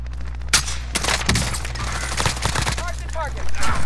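Repeated gunfire in an online shooter video game, sharp shots cracking in quick bursts at close range, with game effects and occasional voices underneath.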